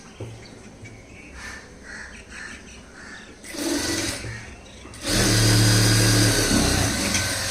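A sewing machine stitches a single seam on a lining blouse, its motor whirring softly at first, then running in louder bursts that swell into a steady, close, fast hum.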